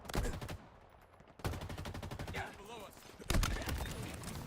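Rapid sniper rifle shots from a Halo match crack out in bursts, several sharp loud reports spaced across a few seconds amid busy game effects.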